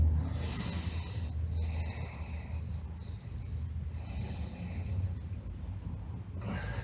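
A slow, deep breath through the nose during a yoga stretch, soft airy rush close to the mic, quiet and unhurried with no talking.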